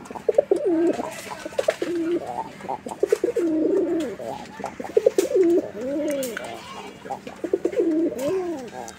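A pair of pigeons coos repeatedly at close range, with rolling, warbling calls in steady bursts and sharp clicks and taps between them.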